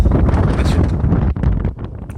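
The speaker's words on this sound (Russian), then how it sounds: "но пока вот так вот дует." Strong wind gusting outdoors among trees in Bendery, Borisovka, a loud continuous roar of buffeting against the microphone with a brief lull near the end.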